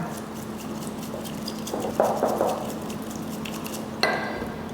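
A spoon stirs about two teaspoons of matcha powder into a drink, with soft scraping and a few sharp clinks against the cup, faint against a quiet background.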